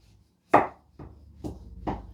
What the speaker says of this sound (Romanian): Acum să tai o felie să vedeți și interiorul.